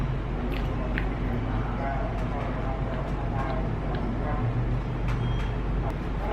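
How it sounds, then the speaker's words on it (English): Announcements crackle from a loudspeaker on a truck somewhere outside, muffled and distant within a steady wash of road and engine noise that never lets up. "I hear someone making announcements from their truck outside."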